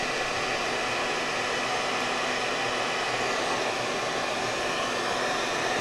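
A hair dryer blows steadily on ribbon to crinkle it for junk journal crafts, a close, continuous whooshing roar that holds at an even level throughout with no talk.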